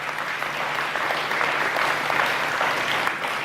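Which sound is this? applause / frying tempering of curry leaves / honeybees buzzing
applause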